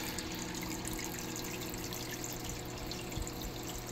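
Water circulates steadily in a freshly set up aquarium tank, a constant trickling, pouring wash with no pauses and no talk.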